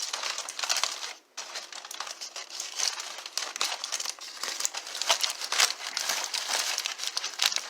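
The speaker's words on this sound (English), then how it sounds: "Carefully unwrap it here." A smoked pork butt, cooked 8 hours, being unwrapped: continuous close crinkling and crumpling of wrapping, with brief pauses and sharper rustles as it is pulled open.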